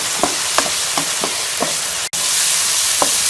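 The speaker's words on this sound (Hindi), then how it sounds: "तो मैं से 1 से 2 मिनट मज़ीद जो है वो अच्छे तरीके से मसाले को भून लूँगी" Masala frying in ghee in a pan for chatpati bhindi, a steady sizzle broken by a few evenly spaced spoon scrapes and stirs, with one brief sharp knock near the end.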